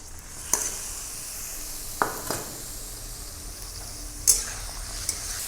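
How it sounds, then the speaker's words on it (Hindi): Chicken pieces frying with golden-browned onions, a steady close sizzle with a few sharp clinks and scrapes of stirring scattered through. "अब हम इसमें चिकन डालेंगे।"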